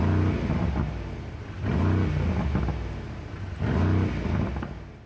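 An older facelift AMG car engine, made quieter to meet regulations, revs in two smooth rising bursts over a steady idle, fairly close but restrained in loudness.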